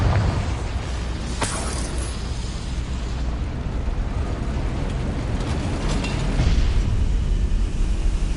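Hogwarts Legacy's Confringo spell, heard as a sharp fiery burst early on followed by a loud, sustained rumbling roar of blasts and debris that swells again later.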